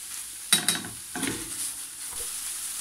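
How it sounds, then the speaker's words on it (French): Spinach wilts in a frying pan, and a quick pair of stirs scrapes against the pan, followed by a softer shuffle, over a faint background sizzle. "Je viens mélanger. Faire tomber les épinards tranquillement."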